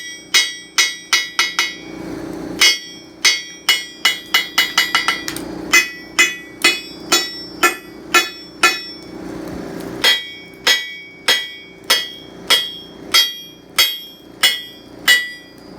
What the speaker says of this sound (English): It has really loud ring and sound to it.